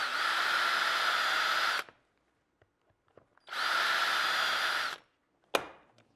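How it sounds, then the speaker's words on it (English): Two long bursts of a power drill whirring at steady speed, close by, drilling a series of holes through a doweling jig, separated by quiet handling clicks and a sharp knock near the end. "I'll drill a series of holes on this side"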